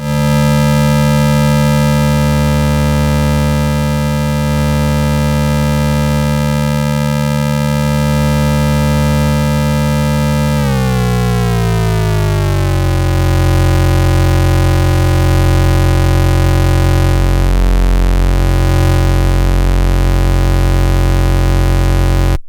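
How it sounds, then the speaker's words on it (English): A modular sequencer's top row clocked as fast as it will go acts as a harsh digital sample-and-hold style oscillator, a loud, steady buzzy tone whose harmonics shift partway through into a lower, grittier timbre, with no talking. "you can use this as a digital style kind of weird sample and holdy oscillator thing"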